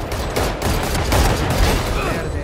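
Rapid gunfire in the tactical shooter Valorant, dense overlapping shots close and loud, with bursts that swell and fade over a couple of seconds.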